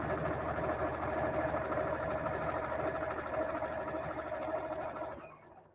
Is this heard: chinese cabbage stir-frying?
no